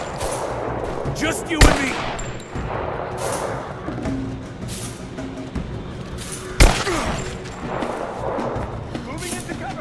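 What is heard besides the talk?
gunfire in the Rise of the Tomb Raider video game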